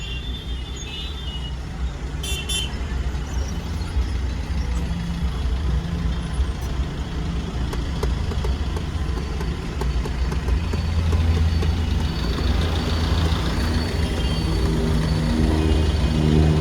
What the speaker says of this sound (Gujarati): જોઈ લો અમદાવાદમાં ટ્રાફિક